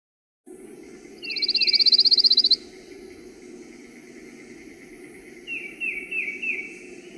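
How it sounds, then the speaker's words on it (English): A pine warbler gives a lazy, even trill of rapid identical notes delivered at constant speed, clear and moderately near, followed by a few softer chirps over a steady background hum of insects. "The pine warbler has a lazy trill that is delivered at a constant speed."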